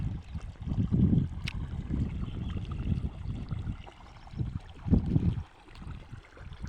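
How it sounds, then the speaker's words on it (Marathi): Irrigation water pours and gurgles onto a crop field in a low, uneven rush that swells and fades, heard close by with no talk. "आपलं असं पाणी चालू आहे"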